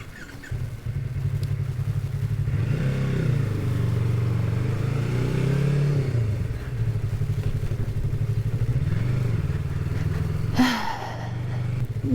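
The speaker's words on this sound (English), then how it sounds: "Just start my bike." Motorcycle engine starting up and idling steadily, a low throbbing putter close by that swells briefly as the throttle is blipped, with a sharp clatter near the end.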